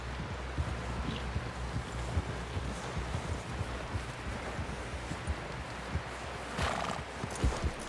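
A horse in the Red Dead Redemption 2 video game clops its hooves in a steady rhythm and lets out a whinny, with wind and rustling in the outdoor background.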